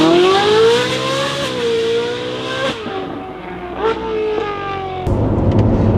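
A Corvette Z06's 5.5-liter LT6 V8 with a flat-plane crank and aftermarket exhaust revs loudly and close, climbing in repeated pulls with a high, sharp wail, then a rougher burst near the end.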